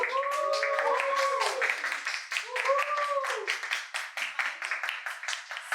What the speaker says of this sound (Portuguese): Uma salva de palmas que tem uma galera aqui.